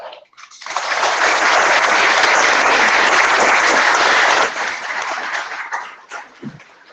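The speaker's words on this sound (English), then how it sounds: "Thank you for the warm round of applause" Audience at an annual meeting applauding a keynote speaker as he is welcomed, a dense sustained round of clapping that fades out after several seconds.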